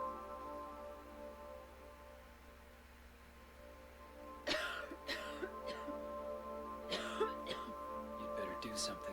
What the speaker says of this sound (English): You'd better do something about that cough.